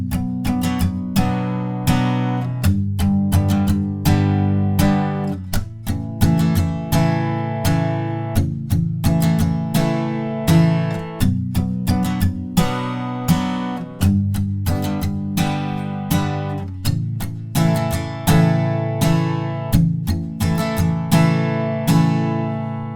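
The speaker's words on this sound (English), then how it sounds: "together with the chords, the bridge will sound like this" Acoustic guitar strums the bridge chords of a song in steady rhythmic strokes, with chord changes every couple of seconds, close and clear with no voices.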